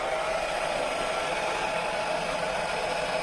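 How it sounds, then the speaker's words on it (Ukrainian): A hair dryer blows with a steady, even whoosh, unchanging throughout, with no voices. "Зараз я включу додатково фен, подивитися на потужність"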